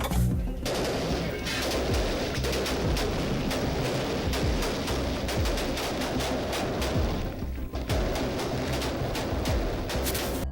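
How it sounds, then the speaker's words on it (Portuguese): Rapid bursts of automatic gunfire crackle almost without pause through a cartel raid, loud and close, with dense overlapping shots echoing off corridor walls. "quando de repente, tiros irrompem."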